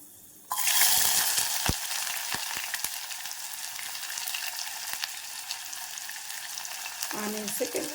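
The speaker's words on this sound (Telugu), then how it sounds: "ఆనియన్స్ అయితే మనకి గోల్డెన్ కలర్లో మనం వేయించేసుకుందామండి" Onions drop into hot oil with three cloves and erupt into a sudden loud sizzle that settles into a steady frying hiss, with a few spatula scrapes and stirring knocks.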